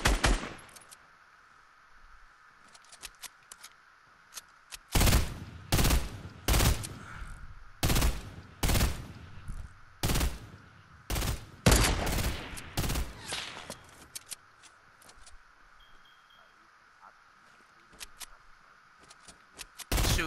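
Gunfire in a Fortnite-style shooter game: several rapid bursts of loud sharp shots in quick succession, then sparser scattered single shots and quieter clicks.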